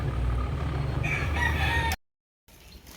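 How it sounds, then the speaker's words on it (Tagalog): A rooster gives one loud, close crow on a small backyard farm in Ternate that raises fighting cocks, followed by a brief silence and faint ambient noise. "Manok yan."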